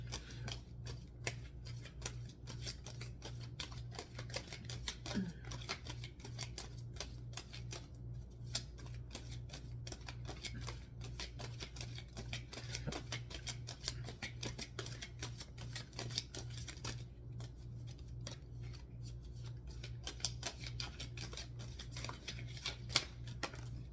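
Romance Angels tarot-style cards being shuffled, a steady run of soft papery riffles and flicks continuing for the whole stretch at a fairly quiet, close level.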